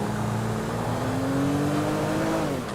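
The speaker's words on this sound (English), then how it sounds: "I'm passing this car." Video game car engine in GTA V FiveM on a steady rising pull as a car is overtaken, a smooth climbing engine tone throughout, fairly loud with no talk.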